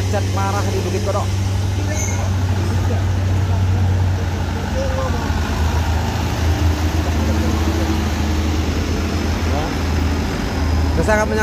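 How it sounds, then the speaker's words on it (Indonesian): Heavy traffic jam at Bukit Kodok, with a steady low rumble of idling cars, trucks and buses close by, continuous throughout and under occasional talk. "macet parah di Bukit Kodok."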